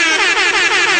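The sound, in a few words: DJ air horn sound effect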